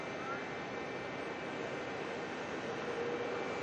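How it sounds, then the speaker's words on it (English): Jetstar airliner turning and taking off at Melbourne International Airport, a steady, distant jet engine roar that holds evenly throughout. "Jetstar turn and burn."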